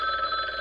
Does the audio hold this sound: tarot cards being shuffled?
no